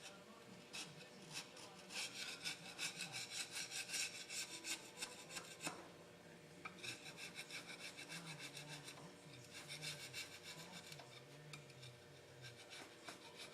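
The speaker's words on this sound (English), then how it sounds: "Then you go after it with your scraper." Scraper dragging over a GM 4.3L lower intake manifold to strip the old gasket, giving rapid rasping scrape strokes in bursts with a short pause midway, close and fairly quiet.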